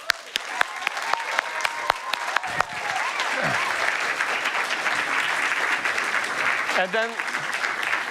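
Loud applause from a conference audience fills the hall, a dense steady wash with a few sharp claps standing out near the start, while a voice speaks briefly over it.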